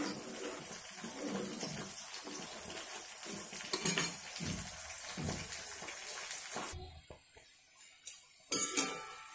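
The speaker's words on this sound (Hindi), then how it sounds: "ये फुलौड़ी तैयार हो गया है, इसे मैं कढ़ाई से निकाल कर इसमें डाल रही हूँ" Fried chana dal phulauri being lifted out of a kadai with a metal spoon and dropped into gravy, steady scraping and clinking of utensil on metal under a low bubbling hiss, ending in a few sharper clanks.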